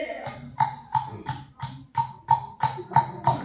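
A voice imitates a horse cart going by, with steady clip-clop beats about every third of a second, fairly close and loud, in a school mimicry competition.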